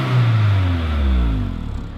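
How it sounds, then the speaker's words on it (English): A stock, smooth four-cylinder car engine revs up with a rising tone, holds briefly, then drops back toward idle, heard close and alone. "The engine's quiet, but it makes a decent sound."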